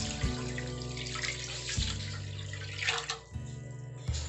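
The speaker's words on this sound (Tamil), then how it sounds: "இந்த 1/2 அழகு சர்க்கரைக்கு நான் 4 டம்ளர் தண்ணி சேர்க்குறேன்." Four tumblers of water pour steadily into half a measure of sugar in a pan, making syrup for rasmalai. The flow is close and continuous, with a low hum beneath.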